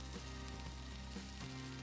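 Steady, dense sizzling of crab stick patties frying in a hot pan, continuous and close, with faint soft scraping.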